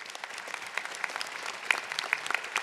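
Steady applause from a crowd at an EVE Fanfest 2011 panel, dense clapping that holds at an even level throughout with a few sharper claps standing out.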